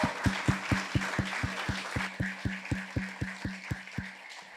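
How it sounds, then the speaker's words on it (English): An audience claps in steady, evenly spaced beats at a live spoken-word event, loud sharp hits carrying on in a regular rhythm, with a murmur of crowd noise behind. "round of applause for these wonderful creative minds"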